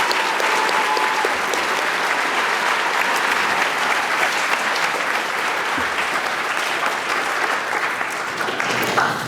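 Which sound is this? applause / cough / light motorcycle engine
applause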